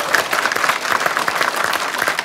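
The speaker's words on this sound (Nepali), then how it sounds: "एकचोटि जोरदार ताली दाईको लागि" A studio audience at a Nepali folk singing competition breaks into loud, vigorous applause, a dense and steady roar of many hands clapping that carries on throughout without speech.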